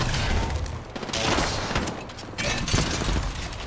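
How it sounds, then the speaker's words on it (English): Rapid gunfire in the battle royale game Apex Legends, a dense continuous fusillade of shots at moderate level with brief swells, with no voice over it. "Getting shot at."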